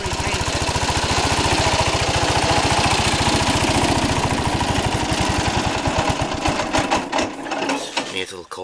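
A 1968 Cub Cadet tractor engine runs close by with a fast, loud chugging, its loose hood rattling along, and the pulse grows uneven and sputters near the end.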